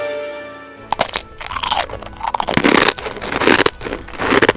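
Crisp, loud bites and crunches into a miso rice cracker (senbei), one sharp snap followed by repeated close chewing crunches after a brief quiet start.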